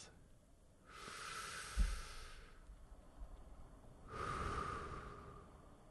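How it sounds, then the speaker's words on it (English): Two slow, deep breaths, each a soft hissing rush of air lasting over a second, close and quiet, separated by a short pause with a faint bump between them. "Take a deep breath."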